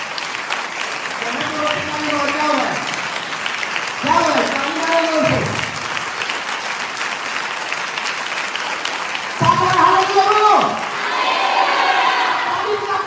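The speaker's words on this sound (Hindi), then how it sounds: "जोर से, जोर से ताली बजाओ" A church congregation claps and cheers loudly in sustained bursts during a preacher's service, while shouted and chanted voices rise over the applause.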